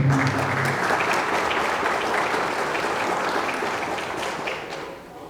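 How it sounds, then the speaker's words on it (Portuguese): An audience at an environmental education project event applauds a speaker with dense, sustained clapping that is loud at first and tapers off gradually toward the end. "Uma salva de palmas para a Bruna."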